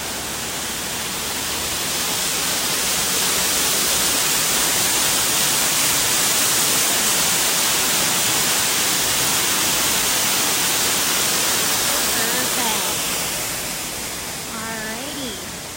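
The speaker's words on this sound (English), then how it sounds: "Get another vantage point of this beautiful, beautiful waterfall." A waterfall at Walt Disney World on a sunny day pours with a loud, continuous hiss and rumble, steady throughout, with faint voices near the end.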